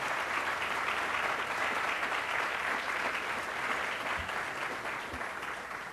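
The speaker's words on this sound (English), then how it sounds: "we should all celebrate and clap for ourselves" Steady applause from a crowd at an outdoor dedication ceremony fills the space, dense and continuous throughout, tapering off slightly toward the end.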